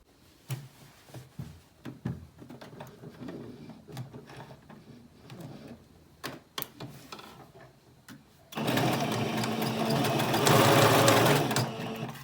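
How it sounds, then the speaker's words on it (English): Sewing machine stitching pieces of satin for a bonnet, a steady loud whir that starts abruptly after scattered handling clicks and runs continuously to the end. "let's get to the machine and sew them together"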